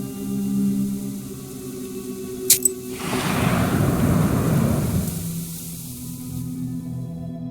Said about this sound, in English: The trees rustle loudly in the wind.